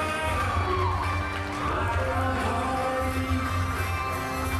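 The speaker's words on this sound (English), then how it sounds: "He has got the crowd on their feet" Arena crowd at an MMA event in Kalispell, Montana, cheering and shouting loudly and continuously for a favored fighter before the bout, with whoops and a steady roar over a low rumble.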